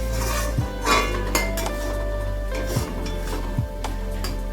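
Spices sautéing in a pan with a splash of water for potol posinda, with a steady low cooking hiss and repeated clinks and scrapes of a utensil against the pan.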